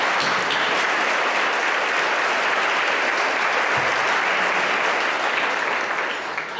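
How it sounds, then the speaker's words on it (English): Applause at a Women of the World breakfast, honoring a woman named Kristen and her team. A large audience claps in a dense, steady, sustained roar that tapers slightly at the end. "a round of applause please for Kristen and her team"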